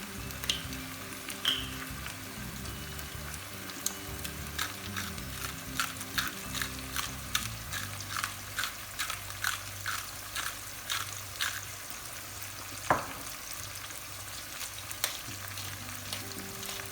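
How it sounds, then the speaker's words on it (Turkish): Oyster mushrooms fry and are stirred now and then in a pan. A low, steady sizzle runs throughout, and light scrapes and clicks of the utensil come back again and again, with one sharper knock near the end. "Mantarımızı da unutmayalım. Şöyle ara ara karıştıralım."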